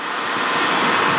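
A jet aircraft taking off from runway 21 at a Los Angeles airport, a steady, loud broadband engine roar with no break across the brief span.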